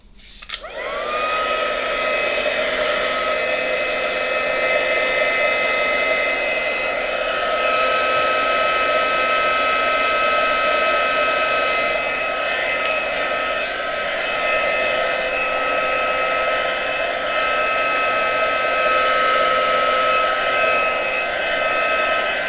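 A hair dryer blows steadily on a wet watercolour painting of a watermelon, its loud constant whirring hum and airy rush starting abruptly and holding unchanged for over twenty seconds close to the listener.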